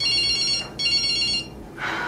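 A mobile phone ringtone rings in two bright, repeating bursts with a short gap between them, then stops, and a soft hiss follows.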